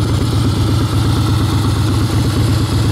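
A Harley Davidson FXS Softail Blackline motorcycle engine idles close by, a loud, steady low rumble that holds without a break and with no voices.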